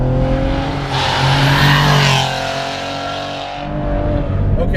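Tuned 520 WHP twin-turbo V6 Cadillac ATS-V on stock turbos accelerating hard, its engine climbing steadily in pitch through a gear before easing and building again, loud and close from inside.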